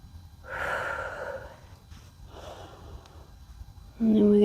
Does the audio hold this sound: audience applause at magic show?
no